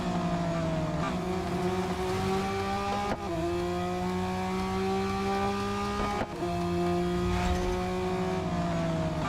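Racing car engines from Real Racing 3 drone loudly and continuously while overtaking, with steady high-pitched revving tones that briefly dip and shift at two gear changes before climbing again.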